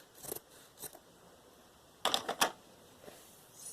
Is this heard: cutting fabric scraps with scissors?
yes